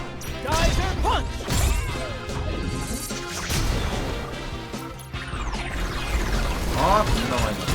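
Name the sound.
Geyser Punch attack impacts from the Grendizer video game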